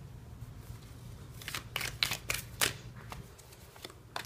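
Tarot cards being shuffled, a run of quick papery riffles and soft flicks bunched in the middle, close and fairly quiet over a low steady hum.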